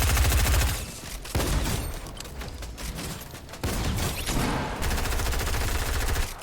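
Fortnite gunfire cracks in rapid bursts of automatic shots, loud and close, cutting off and restarting several times amid game effects, with no talking.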